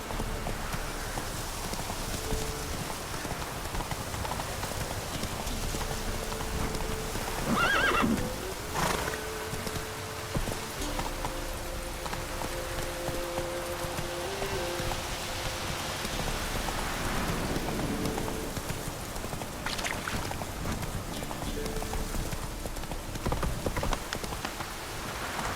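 Roach the horse gallops in The Witcher 3 with rhythmic hoofbeats under steady falling rain, and a neigh breaks through partway; the scene stays fairly soft, with no speech.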